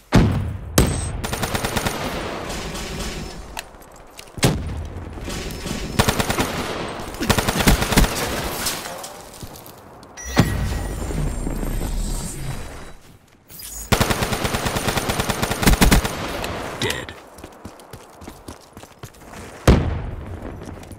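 Sustained machine-gun fire from a KVK 99M in Call of Duty, long loud bursts broken by short pauses, with booms of explosions mixed in and no voices.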